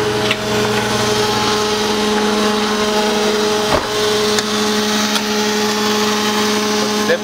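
Milk pump on a dairy tanker truck running loud and steady, a constant mechanical whine with strong tonal hum, a few brief knocks and clicks breaking through.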